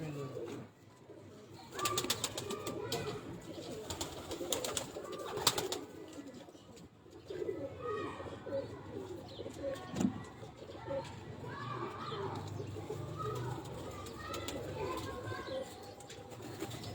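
Pigeons coo softly in a loft where a female has been placed for breeding. The low, rolling coos go on under a steady bed of bird chatter and background noise, with faint voices.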